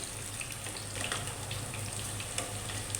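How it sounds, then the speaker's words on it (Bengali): Jackfruit scraps frying in a pan, giving a steady, moderately quiet hiss of sizzling oil with faint occasional crackles and no talking. "এভাবে করে ভাজতে হবে"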